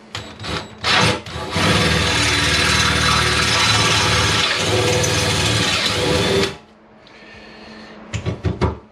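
A power drill whirs loudly for several seconds, grinding through metal while drilling out rivet nuts on a 1998 Kawasaki ZX9R motorcycle frame, preceded and followed by short clicks and brief bursts of the motor.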